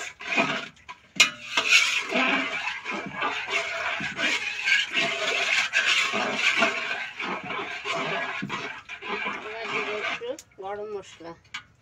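A spoon scrapes and stirs rooster pulao rice with freshly added water in a metal cooking pot, clinking and sloshing steadily while someone talks over it throughout.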